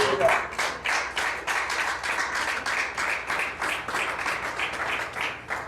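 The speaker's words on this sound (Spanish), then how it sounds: "Den un aplauso al Señor" A church congregation claps in praise, a dense, rhythmic stream of hand claps beating steadily at a brisk pace for several seconds, fairly close and full.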